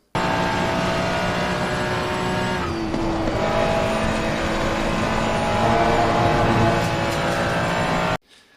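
A race car in a sim racing game takes the fast 130R corner, its engine holding a loud, steady high-revving drone with a brief dip and shift midway, then cutting off abruptly near the end; no talking.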